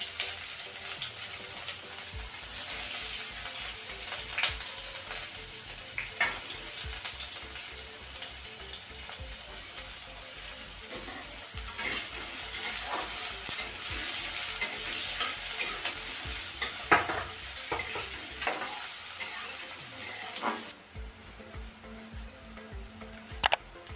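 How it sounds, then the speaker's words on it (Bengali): Cumin, bay leaves and onion fry in hot oil, keeping up a steady close sizzle with repeated scraping stirs and utensil clicks. Near the end the texture changes to a softer hiss with a low hum. "ভাজা হয়ে গেছে, জিরা তেজপাতা, পেঁয়াজ দিয়ে দিলাম।"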